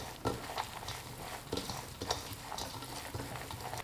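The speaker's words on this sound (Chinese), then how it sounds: "顺着一个方向搅拌均匀" Seasoned meat filling of minced meat with ginger, scallion, Sichuan pepper powder, salt, cooking wine, soy sauce and oil is stirred in one direction, giving soft, faint wet squelches and scraping taps at an irregular pace, close up and alone.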